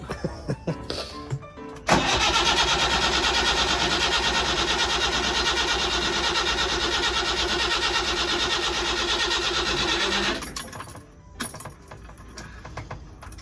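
A narrowboat diesel engine cranks over continuously for about eight seconds without catching, a loud rhythmic starter churn, followed by clicks and handling noises.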